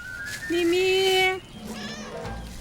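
Cats living in a public park meow nearby: one long, drawn-out, clear meow, then a fainter, shorter one over soft outdoor background noise.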